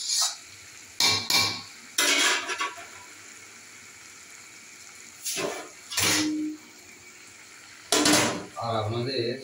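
Lemon fried rice being stirred in a pan, heard as separate bursts of spatula scraping and clattering against the metal, spread unevenly among quiet stretches; a voice talks faintly in between.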